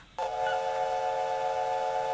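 Steam locomotive whistle from an A1 Peppercorn engine in Minecraft: one loud, sustained chord-like blast that starts abruptly and holds steadily to the end, over a faint hiss.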